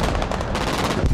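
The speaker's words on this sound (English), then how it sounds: "Laying down suppressive fire." Suppressive gunfire in the strategy video game Broken Arrow, a short dense burst of rapid shots filling the moment, loud and close with no talk.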